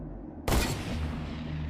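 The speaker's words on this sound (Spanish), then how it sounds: "Sonó un disparo." A single sharp gunshot cracks loudly and suddenly out of quiet, followed by a lingering noisy decay.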